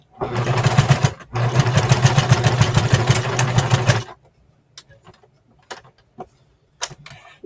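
A sewing machine stitches a top-stitch seam along a fabric edge in two loud, rapid mechanical bursts of about a second and three seconds, then stops, leaving scattered soft clicks and handling sounds.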